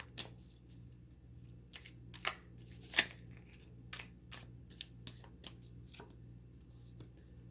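Tarot cards shuffled and drawn by hand, giving soft papery riffles and sharp flicks at an uneven pace, close and quiet with no talking.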